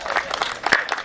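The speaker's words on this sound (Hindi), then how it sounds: "तालियां" A short burst of audience clapping, a crowd applauding briefly at a lively Hindi comedy show.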